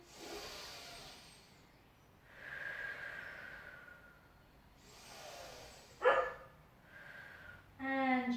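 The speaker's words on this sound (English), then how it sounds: "Something's rattled my Cocker Spaniel and I'm not sure what." A Cocker Spaniel barks and snorts indoors in a few spaced, muffled bursts with breathy pauses between them, ending in a sharper, louder yelp-like bark.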